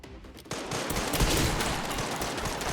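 Enemy gunfire in Resident Evil Requiem bursts out in a rapid, sustained volley of loud automatic shots, starting abruptly and continuing as a dense, rattling barrage.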